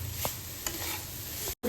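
Grated fresh coconut and jaggery sauté in ghee over a low flame for modak filling, a soft continuous sizzle with a few light stirring scrapes close by.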